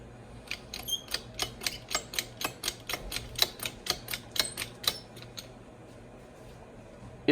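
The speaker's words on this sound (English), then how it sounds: "Now I gently set the stainless steel folding cone into the punch out and am ready to make the fold" A stainless steel folding cone working a coin ring in a die makes a fast, steady run of about twenty sharp metallic ticks that stops abruptly, leaving a quiet low hum.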